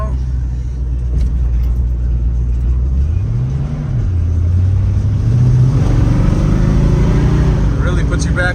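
A 1970 Ford Mustang fastback with a 302 V8 pulls hard, its loud engine note climbing in pitch through the revs, dipping briefly at a shift and rising again under an interior rumble.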